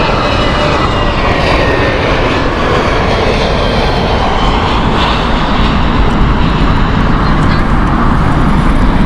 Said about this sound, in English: the mighty Super Jumbo, the King of the Skies, EK3, also known as the Emirates